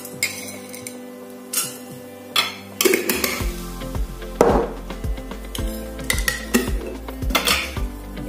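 Crushing spices such as white pepper and coriander with kitchen utensils for an okra sauce, heard as a series of sharp clinks and knocks of metal on dishes, irregular and close, with no talking.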